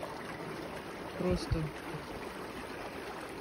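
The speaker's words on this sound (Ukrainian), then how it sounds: "Чесно кажучи, слухати цю музику води я можу" Steady, soft rush of stream water flowing through the Waterloopbos nature reserve in the Netherlands, continuous throughout with a brief spoken word in the middle.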